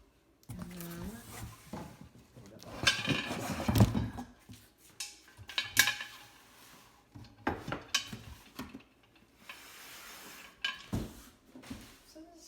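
A big, heavy-duty pressure canner kettle and its large lid are handled in a home kitchen, giving several loud metallic clanks and scrapes at irregular intervals, with a person talking between them.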